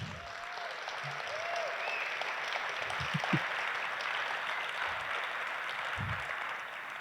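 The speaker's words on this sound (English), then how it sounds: "Give him one more round of applause." Banquet guests at a high school hall of fame dinner clap in a steady, full round of applause, with a few sharper nearby claps and faint voices underneath.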